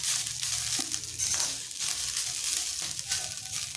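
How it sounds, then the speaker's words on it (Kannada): Freshly grated coconut frying in hot ghee for kadubu and modaka filling, a continuous close sizzle with crackling and stirring throughout. "ತುಪ್ಪ ಬಿಸಿ ಆದ ನಂತರ ಇದಕ್ಕೆ ತುರ್ಕೊಂಡಿರುವಂತಹ ಹಸಿ ತೆಂಗಿನಕಾಯಿನ ಹಾಕ್ಕೊಂಡು ಹುರ್ಕೋಬೇಕಾಗುತ್ತೆ"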